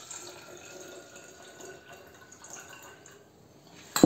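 Liquid pours faintly and trickles into a container of black olives being preserved, a soft continuous splashing that ends in a sudden louder clunk.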